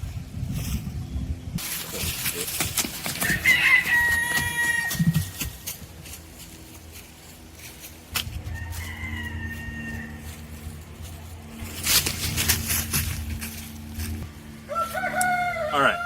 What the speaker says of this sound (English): Look at these chickens up there.